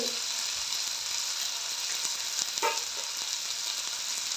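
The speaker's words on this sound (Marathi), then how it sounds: "भाजी ढवळून घेते" Onion greens and lentils frying in a pan while being stirred, giving a steady, bright sizzling hiss with occasional soft scrapes of the spoon and a faint clink.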